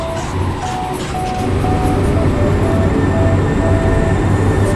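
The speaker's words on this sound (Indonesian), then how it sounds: "ada kereta tuh cuy" A train in Bus Simulator Indonesia rumbles past with a low, steady roar and faint intermittent tonal whine, continuous and fairly loud throughout.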